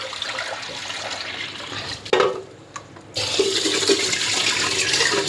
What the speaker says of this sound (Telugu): బియ్యం ఇలా 3 సార్లు కడుక్కోవాలండి.